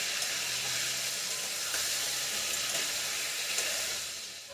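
Prawns fry in a pan over lowered heat, producing a dense, even hiss of sizzling oil that holds steady and eases slightly at the end.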